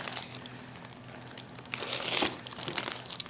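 Parchment paper peeled away from a baked white Texas sheet cake gives a soft, continuous crinkling and crackling close by, swelling briefly louder midway through, with no talk.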